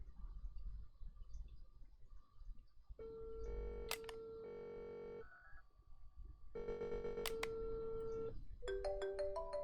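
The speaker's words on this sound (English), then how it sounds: "So whose phone is going off?" A telephone rings in short, repeated electronic tonal bursts, faint and fairly distant against quiet background hiss, with a few sharp clicks and no one speaking.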